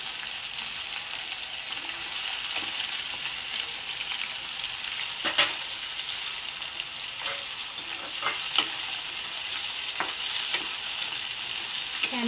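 Tomato and capsicum fry in a kadai with a steady close sizzle, with scattered stirring scrapes and clinks over the hiss.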